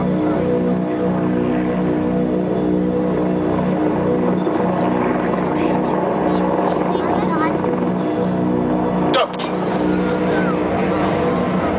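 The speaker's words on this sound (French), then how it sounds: "cet hélicoptère de combat franco-allemand, le Tigre d'Eurocopter" A Eurocopter Tiger attack helicopter hovering at the Paris Air Show gives a steady, loud engine drone with rotor hum, with a brief sharp change near the end and voices faintly underneath.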